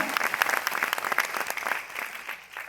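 Audience applause after a speaker's call at a Hindi-language success seminar, dense and steady clapping across the whole stretch, fairly close and lively.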